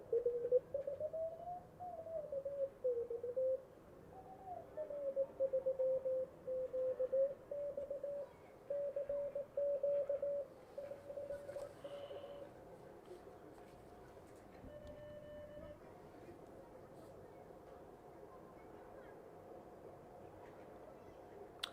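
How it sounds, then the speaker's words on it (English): A Morse code sidetone from a radio receiver beeps faintly in a steady rhythm of keyed tones. It sits in a hissy noise floor, with a wavering tone beneath it and no voices. "can you guys hear the Morse code?"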